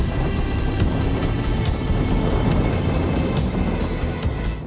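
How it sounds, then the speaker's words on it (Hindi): A Triumph Tracker 400 motorcycle with a 40 horsepower engine is ridden steadily through a corner, giving a continuous engine drone mixed with heavy wind rush and faint regular ticking. "और ये देखो मैं थोड़ा सा कॉर्नरिंग भी कर ले रहा हूँ।"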